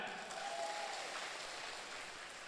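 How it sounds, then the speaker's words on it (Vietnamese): Audience applause at a talk, a soft, steady wash of many hands clapping at a distance, sustained evenly throughout. "Các bạn hãy cho một tràng pháo tay này ạ."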